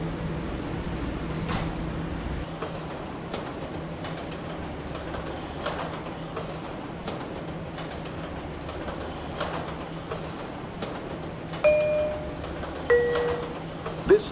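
An R179 subway train on the B line sits with its steady low rumble, then door chimes sound and the wheels roll and squeal as it pulls away, heard from inside the car.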